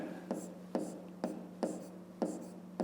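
A pen writes letters on paper in a steady rhythm of about six short scratchy strokes, close and quiet against a faint hum, with no talk.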